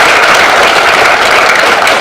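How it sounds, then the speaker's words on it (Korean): A lecture audience at a Korean community talk bursts into loud, sustained applause, a thick continuous roar of clapping from a large crowd with no voices over it. "힘찬 응원의 박수를 좀 부탁드리겠습니다"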